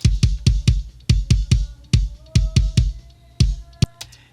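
A kick drum shaped with EQ and gating hits in a steady pattern, each thump tight and abruptly cut off, loud and close with clean silence between strikes and a few quick hits near the end.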